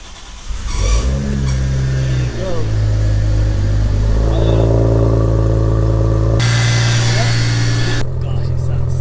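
An Audi A4 with a 3.2 V6 and an exhaust leak fires up and settles into a deep idle, then revs in rising swells close by while a person talks over the engine.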